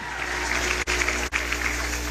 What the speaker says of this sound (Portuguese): pedir uma salva de palmas para vocês